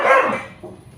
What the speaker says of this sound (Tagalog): Aso siya